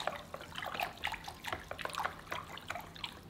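Salted water with rice vinegar is whisked in a large bowl, sloshing and trickling with quick, irregular splashy strokes, close and moderately quiet.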